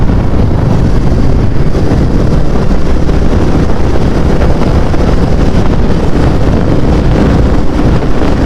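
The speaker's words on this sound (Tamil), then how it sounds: "எதிர்காற்று செம்மையாக இருக்குது." Strong headwind while riding roars steadily across the microphone, a dense, constant rushing buffet with no pauses.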